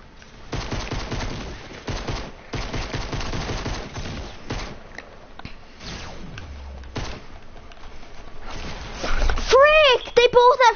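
Shotgun fire in the Fortnite video game comes as bursts of sharp, loud blasts in quick clusters, with thuds in between and a voice talking over the shots.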